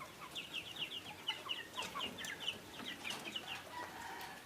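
Chickens cluck repeatedly in short, overlapping bursts, close by and fairly clear, with no talking.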